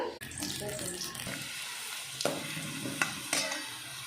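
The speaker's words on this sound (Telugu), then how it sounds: "ఇప్పుడు కడాయి పెట్టుకొని ఆయిల్ వేసాను కొద్దిగా ఇందులోకి ఆనియన్స్" Onions frying in a little oil in a kadai, a steady close sizzle running throughout with a few sharp clicks of a utensil against the pan.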